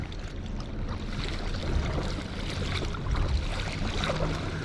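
Steady wash of water and wind around a small leaky kayak heading out toward Watsons Bay, with soft splashing paddle strokes under continuous breezy noise, no voices.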